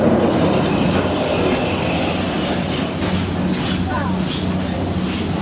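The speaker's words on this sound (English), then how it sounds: "There's a train in the distance." A train rumbles on a railway some way off, a steady low roar, while people speak nearby.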